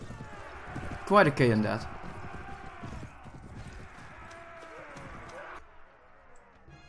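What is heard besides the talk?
cavalry horses galloping in Mount & Blade video game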